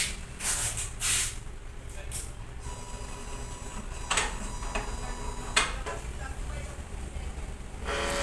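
A sublimation printer runs a print head cleaning cycle, with bursts of pumping and spraying noise, mechanical whirs and clicks over a low hum. A person speaks intermittently over the machine.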